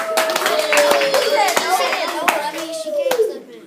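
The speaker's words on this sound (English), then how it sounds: "let's give Mr. Draper a round of applause." A class of young children in a school gives a round of applause, their energetic, uneven clapping close and loud, with excited children's voices chattering over it before the clapping fades out.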